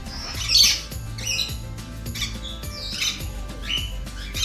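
A large parrot, a macaw or cockatoo, gives several harsh, loud squawks in bursts over a low background hum, close to the listener and with no talking.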